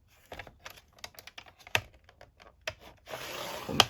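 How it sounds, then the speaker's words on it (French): A paper guillotine trimmer makes a series of light ticks and taps as paper is lined up for a storage pouch, then gives a longer scraping, rasping cut at the end, with a final sharp click. "Alors, je le passe dans le massicot."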